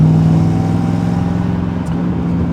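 A 1969 Chevrolet Corvette 350 coupe's V8 holds a loud, steady, close-up engine drone with a deep rumbling tone and no break.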